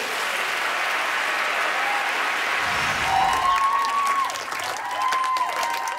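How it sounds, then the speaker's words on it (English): A studio audience applauds a senior school choir at a televised hymn-singing competition, loud sustained clapping with a few cheers, while faint tonal music rises in the background toward the end. "And a huge round of applause for Strathern School."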